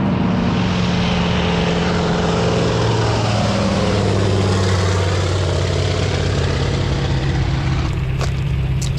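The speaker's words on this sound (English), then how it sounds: "There's a bush plane coming in with floats on it." A floatplane bush plane flies in overhead in Alaska, its propeller engine droning loud and steady with a sliding pitch as it passes close by, and no one talking.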